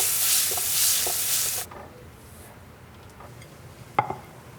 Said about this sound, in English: I'm gonna use the flavor from the drippings left in the skillet and add in some tomatoes and olives